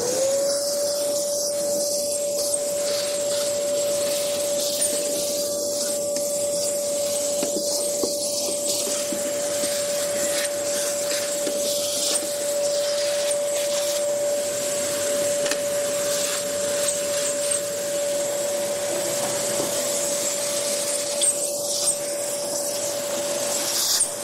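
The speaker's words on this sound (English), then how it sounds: "I'm going to vacuum them up immediately." A Parkside PPWD 30 B2 workshop vacuum cleaner runs nearby as it sucks up wood chips, giving a steady loud motor whine with a constant pitch and rattly, hissing airflow that stays even for the whole stretch.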